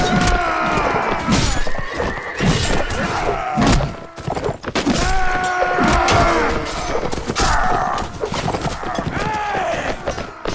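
Horses neigh and whinny repeatedly during a castle siege battle in Mount and Blade Warband, with clattering hooves, thuds and crashes mixed into loud, busy combat noise.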